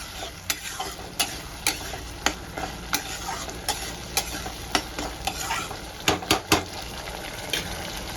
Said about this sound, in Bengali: গোবিন্দভোগের চালটা দিয়ে আমি মশলার সঙ্গে খুব ভালো করে ভেজে নেব।